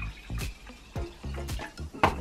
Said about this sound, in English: Now I'm just gonna take this off and then pour it into the cup like that.